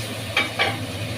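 Fried potatoes and ridge gourd sizzle gently in a pan with cooked-down tomatoes, and two quick scraping stirs of a spatula stand out over the steady frying hiss.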